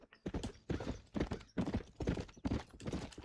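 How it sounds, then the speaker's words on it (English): Horses' hooves clip-clop at a steady gait in the Red Dead Redemption video game, a close, rhythmic series of hoofbeats heard alone without talk. "Look at these here horses."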